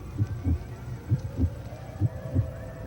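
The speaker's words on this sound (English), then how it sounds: "It's the heartbeat." A slow, steady heartbeat thumps in low, muffled double pulses, repeating evenly about three times with soft hum between beats.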